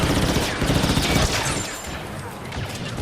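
Blaster gunfire in the Star Wars Battlefront 2 beta, a loud dense fusillade of rapid overlapping shots that is heaviest at the start and then thins out a little.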